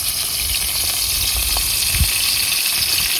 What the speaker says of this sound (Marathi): आता तेल टाकून तळायचंय.